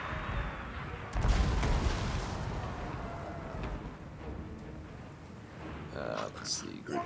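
Mortar artillery volleys boom in a Total War: Warhammer 2 battle with Clan Moulder, a heavy rumbling barrage swelling after the first second and rolling on amid dense battle noise, with a voice talking over it.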